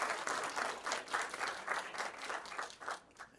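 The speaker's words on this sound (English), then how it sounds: "So a big round of applause, if you will, to our outstanding women leaders at WSU." A university audience applauds women leaders at a Washington State University state of the university address; a moderate crowd claps in a steady patter that thins and fades out toward the end.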